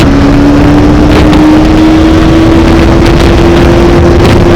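A Bajaj Pulsar 180 motorcycle accelerating on a top speed run, its engine tone climbing steadily beneath a loud, close, constant roar of wind buffeting the microphone.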